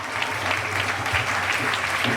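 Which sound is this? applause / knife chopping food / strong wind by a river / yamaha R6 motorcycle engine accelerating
applause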